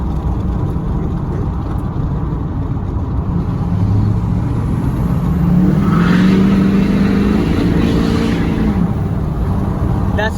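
A low-mileage LBZ diesel pickup engine runs loud and close, its deep rumble swelling as it revs up midway, with faint voices underneath.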